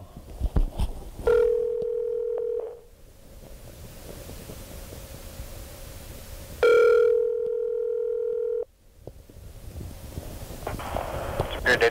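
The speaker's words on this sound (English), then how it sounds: "I guess you can probably hear the dial tone." A landline dial tone sounds twice, a steady electronic hum lasting a second or two each time, separated by quiet background noise.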